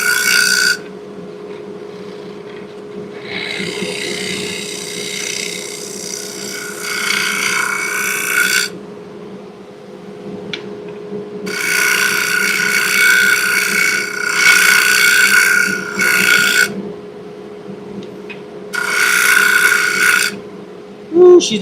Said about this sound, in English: Right before I'm going to do my sanding.